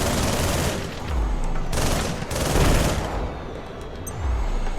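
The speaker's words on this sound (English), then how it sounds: "I definitely need to start making use of my missile launcher" Missile launcher firing in the Project Nimbus video game: a dense, continuous roar of rapid blasts and explosions, loud and sustained, with deep low rumbles swelling and fading throughout and no voices.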